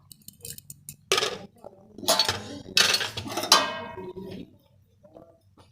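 A spoon stirs soy mince in a pot in several short scraping bursts, each a gritty rasp against the metal with light clinks, separated by near-quiet gaps.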